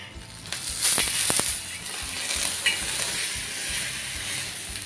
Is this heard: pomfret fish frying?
yes